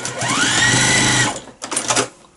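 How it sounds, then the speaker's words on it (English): A sewing machine stitches down a folded edge on a tight-fitting fabric face mask, running loud and steady for over a second before stopping, then a few shorter quieter bursts follow. "Fold it over. And stitch it down."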